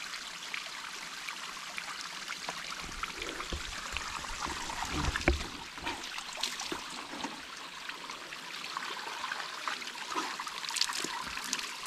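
A small waterfall on the Bhairavgad trek near Moroshi in Malshej Ghat, Maharashtra, rushes steadily and close by, a continuous bright wash of falling water with no voices over it.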